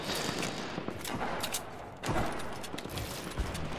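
Gunfire in a Fortnite custom match crackles in rapid overlapping bursts of sharp shots, loud and near, with heavier blasts around the midpoint and no voices.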